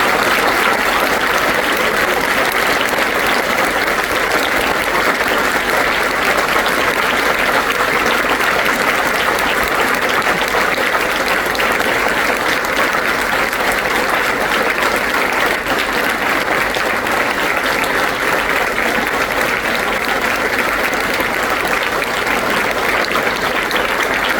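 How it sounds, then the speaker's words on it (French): Loud, sustained applause from a large audience at a French customs ministry ceremony honouring customs athletes of the Paris Olympic Games, dense steady clapping filling the whole stretch without pause. "je voudrais que vous réserviez à nouveau un tonnerre d'applaudissements à nos sportifs"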